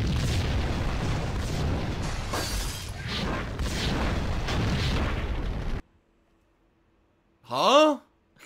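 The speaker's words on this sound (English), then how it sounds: "The tank shoots at me and kills me." A tank cannon fires in the video game Max Payne, producing a run of heavy, loud blasts and rumbling booms. The booms cut to sudden silence, followed by a brief, warbling, voice-like cry near the end.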